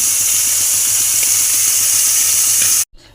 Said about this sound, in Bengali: ভালো করে চিংড়ি মাছটা ভেজে নেব, ভেজে তুলে নেব।